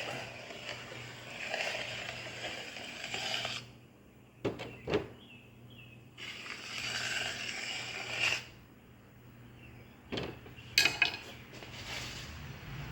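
Scooping and trimming clay out of a square casserole dish with a pottery tool, giving quiet scraping passes that come in a few stretches, broken by occasional soft knocks and clicks, with no talking.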